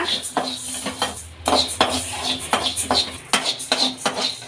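Coriander seeds dry-roasting in a pan on the stove, stirred with a utensil that scrapes and clinks against the metal in a steady repeated rhythm, close and fairly loud.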